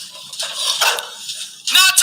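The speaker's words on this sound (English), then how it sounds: "It's the 3 dogs in the Kilby household." Three household dogs bark in short, high, yappy bursts, several overlapping yips spread across two seconds with a louder cluster at the end, close by and mixed with talk.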